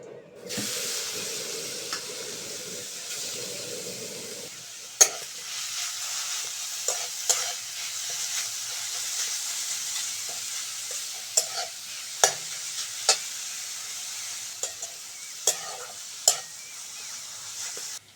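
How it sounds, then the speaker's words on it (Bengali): Grated carrot frying in ghee with cardamom, stirred in a kadai: a continuous hissing sizzle with a loud first burst, then repeated sharp spatula knocks and scrapes at irregular intervals. "গাজরটা ভালো করে ভেজে নিয়েছি"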